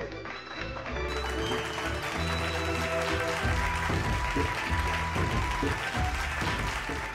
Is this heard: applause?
yes